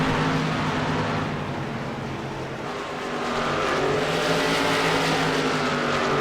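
Race cars battle on a track, engines roaring together at sustained high revs with rising and falling pitch as they pass, loud and steady with no talk.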